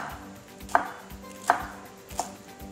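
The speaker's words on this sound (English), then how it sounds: "we're just going to cut them up little tiny pieces" A knife chops pineapple into tiny pieces on a board, three distinct cuts spaced about three-quarters of a second apart, close and crisp with no talking.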